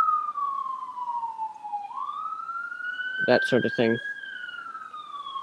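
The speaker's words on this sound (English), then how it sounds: "Sorry about that siren." A siren from a passing emergency vehicle, a loud wailing tone that falls and then climbs again, running steadily through the clip while someone speaks briefly over it.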